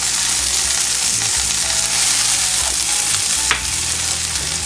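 Carne asada sizzles loudly in a hot pan while being stirred, a continuous dense frying hiss with a brief scrape of the utensil near the end.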